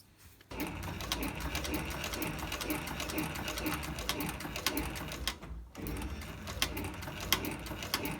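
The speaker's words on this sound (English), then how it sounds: "on my stitching machine, stitch from here all the way around to there" A leather stitching machine sews a holster billet strap, its rapid mechanical chatter running continuously at close range after a quiet start, with one brief pause partway through.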